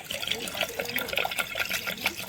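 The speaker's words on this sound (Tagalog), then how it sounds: "Buhos mo na lahat." Liquid splashes and burbles as it is poured out at an outdoor campsite, a close, uneven stream of watery gurgles lasting a couple of seconds with no talk over it.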